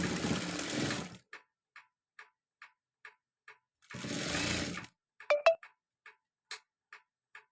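A sewing machine stitching a uniform coat, running in two short bursts between a steady series of soft, evenly spaced ticks, with a brief clatter near the end; close and fairly quiet, no talk.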